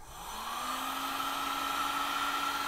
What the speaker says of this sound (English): Just take a heat gun, hot air dryer, whatever, and warm the item up first with it.